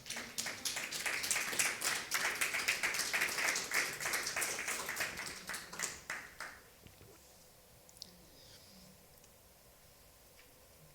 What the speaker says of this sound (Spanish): ¿Alguien le podrá dar un aplauso al Señor?